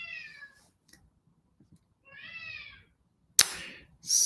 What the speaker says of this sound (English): Sorry for my cat if you hear him.